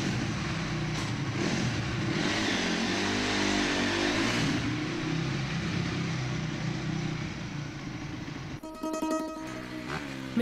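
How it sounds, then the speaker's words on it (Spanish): A motorcycle engine revs in a swelling mid-pitched drone that rises and falls over several seconds. Later it gives way to a sharper buzzing, clattering burst near the end. "Es la misma motocicleta."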